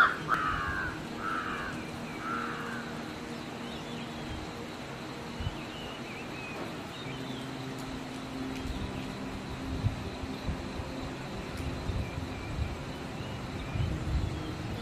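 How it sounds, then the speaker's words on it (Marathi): Several birds call at a hilltop dam near Lavasa, with a short series of caws near the start and scattered calls after, faint against steady wind and low background noise. "पक्ष्यांचा आवाज ऐका कसा मस्त येतोय"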